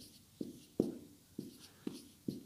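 Chalk or a pen writes a math set on a board in five distinct, evenly spaced strokes, each a short scratchy tap that fades quickly, fairly faint and close.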